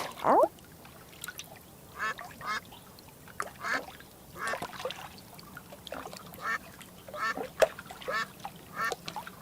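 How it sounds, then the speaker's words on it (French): Ducks quack in scattered bursts against a quiet background, with faint splashing of water between calls, in a children's cartoon. "moi aussi, j'entends des canards faire coin-coin et de l'eau."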